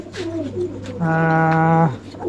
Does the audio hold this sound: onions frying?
no